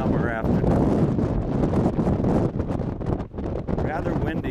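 Heavy wind buffets the microphone in loud, continuous low rumbling gusts at Rocky Mountain National Park, with brief faint voices breaking through now and then.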